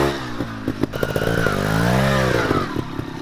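Trial motorcycle engine revving in second gear, close and loud, with uneven throttle blips that rise into a sustained, climbing rev before dropping back.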